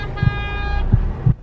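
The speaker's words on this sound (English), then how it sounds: "Somebody's honking." A car horn sounds one sustained blast lasting more than half a second, loud and close, over a low background rumble with dull thumps.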